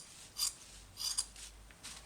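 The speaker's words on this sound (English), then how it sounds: "Going to cut the edges of the fabric." Scissors snip along the edges of merino wool fabric for a needle-felted landscape, a few quiet separate cuts close by with soft rasping between them.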